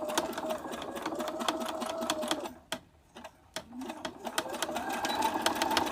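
A sewing machine stitches and backstitches fabric for a fox plush toy, a close whirring hum with quick mechanical clatter that briefly stops and then resumes.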